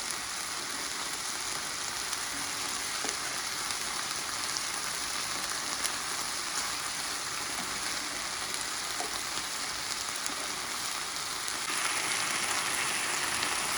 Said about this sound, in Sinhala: මේක හොඳට ෆ්‍රයි වෙන්න අරින්න.